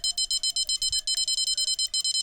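An electronic fishing bite alarm sounds during salmon fishing, giving a rapid run of sharp, high beeps in a fast steady pulse, close and loud, with faint low background noise underneath.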